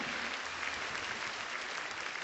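An audience applauds at the end of a music performance, a dense, even wash of clapping from many hands, sustained for a couple of seconds.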